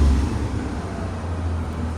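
Rebuilt engine of a Damas car running, a close, low, steady hum with a slightly louder opening moment, continuous and unaccompanied by speech.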